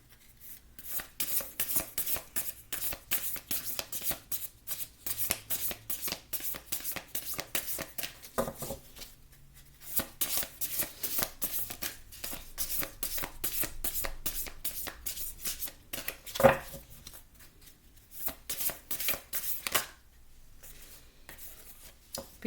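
Tarot cards being shuffled by hand during a reading, a long run of quick riffling flutters in repeated bursts with brief pauses, close and crisp, with no talk over them.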